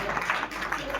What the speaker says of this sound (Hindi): फिर से तालियों के साथ हम अभिवादन करें